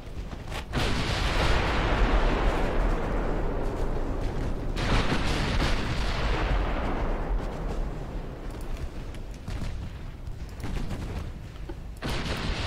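Warship secondary guns fire in a naval battle of the Ultimate Admiral Dreadnoughts video game, set in a British 1900 campaign. Loud, continuous booming salvos roll over one another for the whole stretch, with no pauses and no talk.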